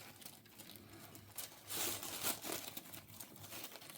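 Ribbon for fall decorating being handled and crinkled alongside burlap ribbon: soft, close rustling and crinkling that swells briefly in the middle, no speech.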